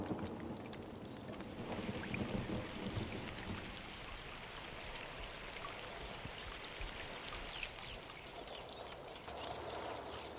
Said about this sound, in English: A late summer storm breaks Kalamaili's season of drought.